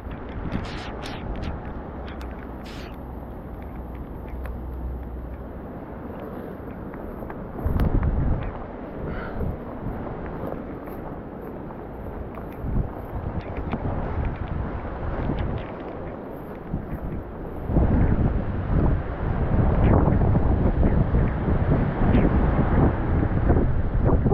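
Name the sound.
cold wind blowing by a trout river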